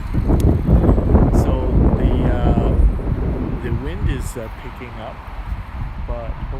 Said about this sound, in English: So the wind is picking up